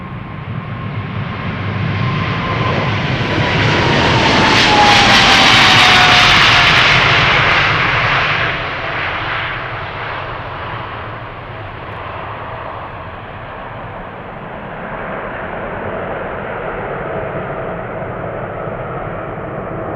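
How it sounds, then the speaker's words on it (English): China Southern Cargo jet on flight 454 to Shanghai departing Amsterdam Schiphol, a loud engine roar that swells to a peak around the middle with a falling whine, then eases into a steady distant rumble. "China Southern Cargo flight 454 to Shanghai is coming."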